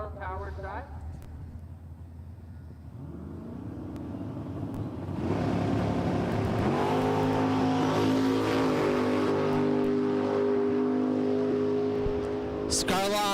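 Drag racing at Empire Dragway as Phil Scarlata's Nova and a Monte Carlo launch, engines building from a low idle into a loud, rising wail that holds steady, with an announcer talking over it.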